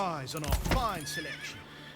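A horse in Manor Lords gives a loud, close whinny, a quavering neigh that rises and trails off over about a second, with faint hoof clops underneath.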